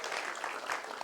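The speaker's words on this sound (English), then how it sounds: "Round of applause for Shavin." Audience applause at a youth college talk, a continuous dense patter of many hands clapping, steady and moderately loud with no speech on top.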